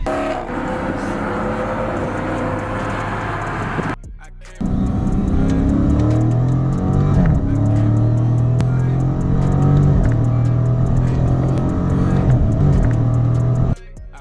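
A Dodge Challenger SRT's engine roars under throttle, loud and close, with rising and falling revs as the gas is pressed, a short dip midway, then sustained acceleration.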